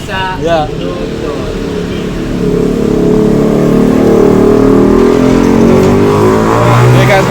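A Yamaha Mio GT scooter engine, being checked for a no-start fault on a jumped battery, fires up and revs to a steady loud whir, with a voice talking over the start.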